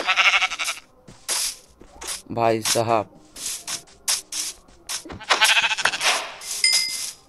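A goat bleats in the Minecraft video game, a short wavering cry amid clicks and game effects, with someone speaking briefly in Hindi.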